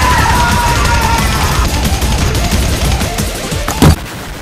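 Heavy machine gun turret in Fortnite Save the World firing a dense, continuous stream of loud shots with a deep boom near the end, against busy game effects.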